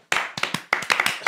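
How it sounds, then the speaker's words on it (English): A small group claps hands in short, uneven bursts, close by, with brief pauses between the rounds. "let's clap a few times just for that."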